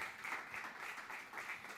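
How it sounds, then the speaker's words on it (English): Audience applause after a startup pitch at a Latin American and Caribbean startup showcase, a steady, fairly faint wash of clapping from a crowd with no distinct individual claps standing out. "Applause for Eldon"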